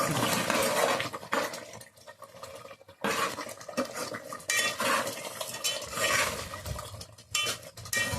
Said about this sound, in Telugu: తర్వాత కొంచెం గరం మసాలా వేస్తున్నాను ఇప్పుడు బాగా కలుపుకుందాం